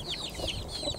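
A Cream Legbar hen clucks in a suburban backyard flock, a short run of soft, close clucks over low background noise, with no talking.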